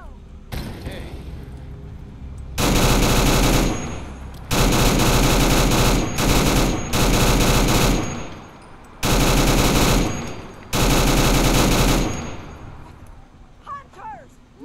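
Gunfire in the video game Fallout 4 comes as several long, loud, sustained bursts of rapid automatic fire broken by short pauses, with faint voices between the bursts.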